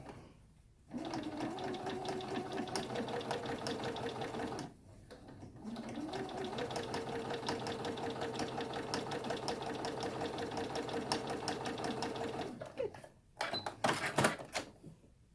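A sewing machine stitches down a fabric face mask seam in two long steady runs with a brief pause between, its fast even whirring clatter close and alone, ending in a few short bursts.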